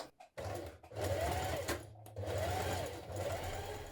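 A sewing machine runs in steady bursts, stitching across a choke line on trouser pieces, with a brief pause between runs and a constant motor hum close by.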